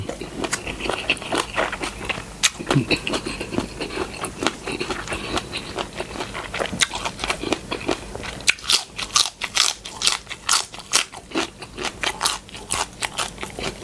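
Close, crunchy chewing of a Thai papaya salad made with chicken feet, a steady run of sharp bites and crackles, denser toward the end, with no talk.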